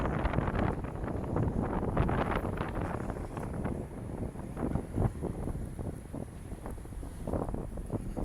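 Strong gusts buffet a handheld microphone during an evening walk along a city street, producing a loud, continuous low rumble and flutter that surges and dips throughout with no talking.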